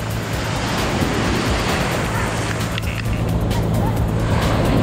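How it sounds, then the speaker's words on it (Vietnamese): Big ocean waves crash and wash continuously on Sầm Sơn beach in early morning, a loud, steady roar of surf close by with wind, lasting throughout with no pauses. "Ôi ôi sóng to, sóng to, sóng to."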